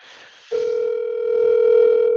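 An outgoing phone call tone, a steady, loud electronic hum that starts abruptly after a brief quieter moment and holds continuously without a break.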